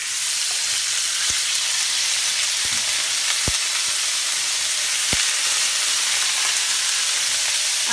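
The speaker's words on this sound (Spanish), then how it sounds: "Vamos a agregar nuestras 2-3 cucharitas de aceite y vamos a poner la carne picada" Ground beef fries in a little oil in a skillet, giving a loud, steady sizzle and hiss with a few sharp clicks of a utensil stirring the meat.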